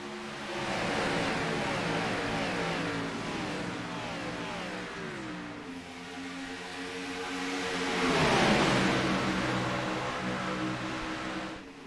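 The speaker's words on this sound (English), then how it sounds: "let's hear those engines roar as we push those pedals to the metal" Race car engines in a video game at Talladega Superspeedway roar together with rising and falling pitch, one surging louder as it sweeps past, a dense mechanical drone throughout.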